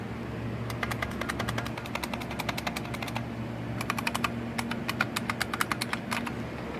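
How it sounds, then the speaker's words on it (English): Computer keyboard connected through a faulty PS2 port being hammered, with bursts of fast, sharp, clattering keystrokes close to the microphone, broken by short pauses, over a faint steady hum. "you can see I'm hammering keys, and there ain't nothing appearing"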